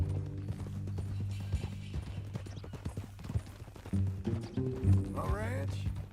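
Horse hooves clip-clop in the Western video game Red Dead Redemption 2 as a steady rhythmic gait under a musical score, with a horse whinnying near the end.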